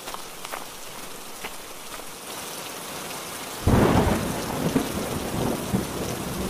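Heavy rain pours steadily in a cartoon scene, a low thunder rumble swelling suddenly halfway through and rolling on loudly under the downpour.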